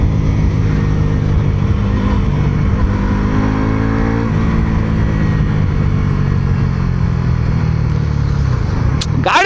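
Bajaj Pulsar NS400Z naked street motorcycle engine revving loud and close, a continuous throaty drone that swells and falls in pitch around the middle, ending with a sharp click.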